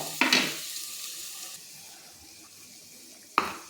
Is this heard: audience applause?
no